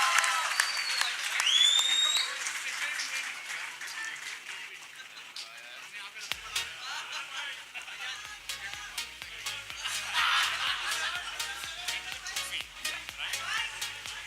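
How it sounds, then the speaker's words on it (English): A crowd applauds at an Indian Supercross Racing League event launching a brand ambassador: sustained, fairly faint clapping across the whole stretch, with voices mixed in. "everybody please put your hands together"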